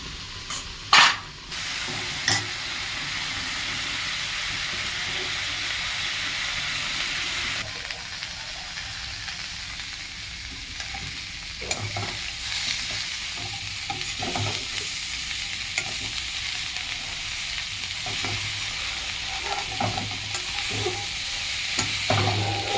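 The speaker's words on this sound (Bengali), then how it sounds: "এরকম করে নাড়তে নাড়তে রসটা শুকিয়ে যাচ্ছে" Food stirred in a frying pan as its liquid cooks off, a steady sizzle with scraping, irregular stirring strokes throughout and a couple of sharp clanks near the start, no talk.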